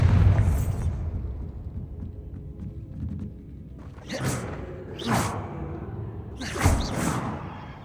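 Bombarda spell explosions in Hogwarts Legacy burst out three times in quick succession, each a loud, sharp blast with a rushing tail over a low, rumbling game background.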